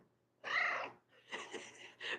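A domestic cat meows in two or three drawn-out, close and fairly loud calls with a short pause between them, heard indoors and free of talk.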